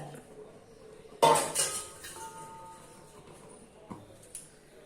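Chicken biryani masala being stirred in a cooking pot, a few sharp metallic clanks and scrapes of a ladle against the pot, close but sparse, with quiet stretches between.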